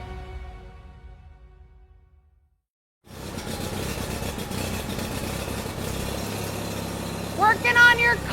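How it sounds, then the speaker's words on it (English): A car engine starts running and then idles steadily and fairly close, after a quieter stretch with talking, while a voice comes in briefly near the end. "I can't hear you because the car's on."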